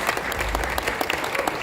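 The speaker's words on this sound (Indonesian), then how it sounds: "Tepuk tangan dulu deh buat Mas Anies Baswedan" Applause for Anies Baswedan at an Indonesian political discussion event: a dense, steady patter of many hands clapping from a lively crowd, sustained throughout at moderate loudness with no talk over it.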